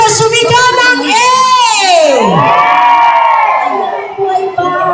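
A crowd at a store grand opening in Lipa shouts a long, loud, sustained "A" together, many voices swelling and bending in pitch before fading into scattered chatter.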